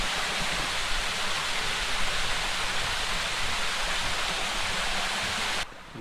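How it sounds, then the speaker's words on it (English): Water rushing through Sapantiana, a colonial stone aqueduct in Cusco, Peru, as a steady, loud, broad roar close by, with no voices, cutting off abruptly near the end. "The water flowing."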